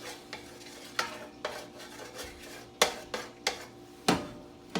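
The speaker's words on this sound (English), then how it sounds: "Give this a stir here." Garlic being stirred in cold oil in a pan, a series of sharp scraping strokes of a utensil against the pan at an uneven rhythm, close and clear with a faint background hum.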